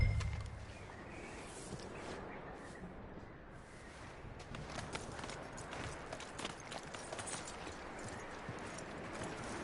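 Horse hooves clip-clopping in Red Dead Redemption 2, a faint continuous patter of steps over quiet ambient game background with no talk during the clip.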